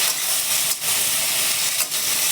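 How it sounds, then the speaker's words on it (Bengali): Water splashes into a hot pan of spices and vegetables while cooking a fish and vegetable dish, giving a loud, steady hissing sizzle of steam that lasts throughout, swelling briefly twice. "এখন জল দিয়ে দিচ্ছি, অল্প করে জল দিয়ে দিলাম।"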